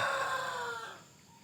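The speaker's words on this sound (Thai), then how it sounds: "เจ้าลูกไก่นี่ห้าหกเดือนเนี่ย มาจิกผมนะครับตัวนี้" A young Burmese chicken about five to six months old gives a short, close, drawn-out crowing call that fades away within a second or so, with nothing else around it.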